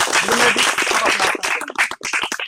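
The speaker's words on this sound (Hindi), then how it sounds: "हम चाहेंगे ताली बजाइए और स्वागत कीजिए" A crowd at an outdoor election forum claps loudly in welcome for a politician, close and dense at first, then thinning into scattered individual claps before stopping.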